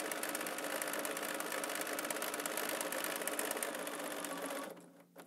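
A domestic sewing machine runs a continuous, fast, close mechanical whir while quilting across the rows. It stops abruptly near the end.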